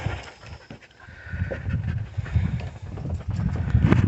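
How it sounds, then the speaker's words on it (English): A dog loose in a farm garage after breaking its leash pants rapidly and steadily at close range, the quick rhythmic breaths continuing throughout with no speech. "Look at the dog right there, guys."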